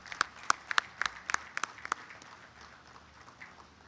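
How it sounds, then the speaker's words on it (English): Scattered handclaps at a BDA business gathering, about a dozen sharp claps in the first two seconds that then thin out into quiet room tone. "Big applause for him."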